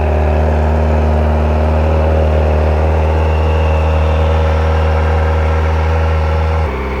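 A Kawasaki ZX4RR motorcycle engine idles while warming up, a loud, steady high-pitched four-cylinder hum close by that drops slightly near the end.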